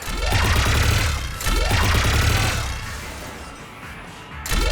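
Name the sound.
gunfire in the video game Mass Effect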